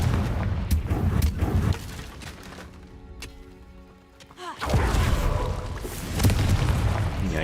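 A Confringo blasting spell explosion in Hogwarts Legacy, a loud boom followed by crackling debris that fades into a quieter tonal hum, then another heavy blast and rumble, near and forceful with no talk.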